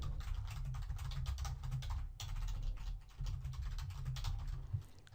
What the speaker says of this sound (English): Now let's start typing something.